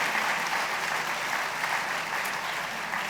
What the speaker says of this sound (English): Please give a round of applause for our ANY fellows.